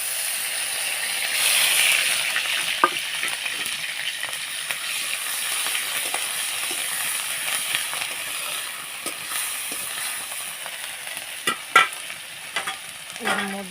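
Onion paste sizzles steadily in hot mustard oil in a wok, a continuous frying hiss with occasional scraping stirs and clinks growing sharper toward the end, close by and alone without talk.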